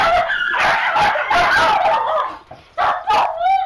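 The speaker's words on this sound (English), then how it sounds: "That's my nan's dog." A dog at a grandmother's home barks and yips repeatedly in quick, close, loud bursts, with a whimpering whine near the end.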